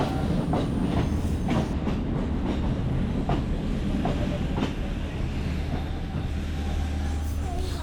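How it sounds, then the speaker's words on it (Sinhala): A train on the Badulla railway line in Sri Lanka rumbles steadily along the rails, with a continuous loud roar and a faint rhythmic clatter of wheels running through the whole stretch. "කෝච්චියෙන් බදුරු ගමන යනවා"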